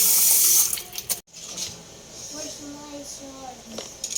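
Running tap water splashes into a sink for washing mussels, loud at first then softer, with a voice speaking in the background.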